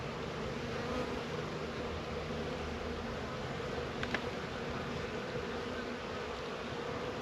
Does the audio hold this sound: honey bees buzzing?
yes